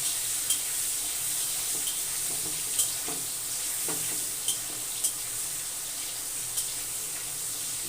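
Prawns fry in a pan, producing a constant bright sizzle close by, punctuated every second or so by light clicks and taps of stirring.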